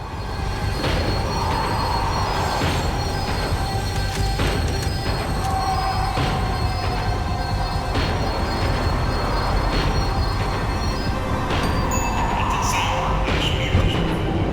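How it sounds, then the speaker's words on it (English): A tram in Max Payne 3 rumbles steadily as it slows, wheels squealing on the rails in long high whines over a loud continuous rolling roar. "The tram was slowing down, and I'd only just gotten on board."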